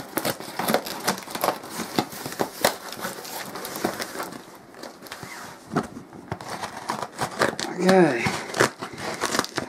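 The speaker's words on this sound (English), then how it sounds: "I really wish I'd brought some bigger scissors with me" Plastic packaging around a donated oscilloscope crinkles and crackles as small scissors snip through it in quick irregular cuts; a voice speaks briefly.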